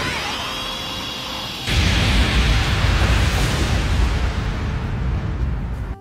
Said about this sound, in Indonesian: dan Cell Max pun meledak.